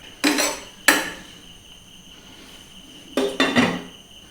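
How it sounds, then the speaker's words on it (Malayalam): Onions being crushed for cooking, four sharp knocking impacts that come in two pairs, close and fairly loud against a quiet background. "അപ്പോൾ നമ്മൾ ആ ഉള്ളി എടുത്തു വെച്ചിരിക്കണതൊന്ന് ചതച്ചെടുക്കണം."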